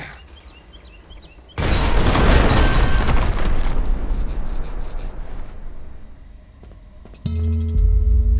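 A grenade blast in the video game Dysmantle hits with a sudden loud boom and a long crackling, rumbling decay, followed by quieter game effects and a brief tonal chime near the end.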